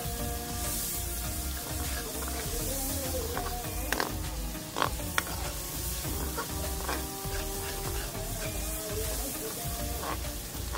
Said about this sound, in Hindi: इसी घी के अंदर हम इसको फ्राई करेंगे